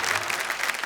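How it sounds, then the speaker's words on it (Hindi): Audience applause at a Hindi kavi sammelan poetry recital, dense and steady clapping from a large crowd filling the whole moment with no voices. "आपने मेरे सम्मान में इतनी जोरदार ताली बजाई"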